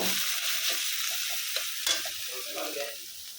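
Five pieces of fish fry in a pan with a steady, close, hissing sizzle, broken by occasional light clicks and pops.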